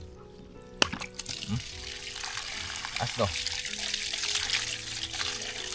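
Strong water rushes steadily from a mountain spring, a loud continuous gush that builds toward the end, with a few short voices and bumps near the start.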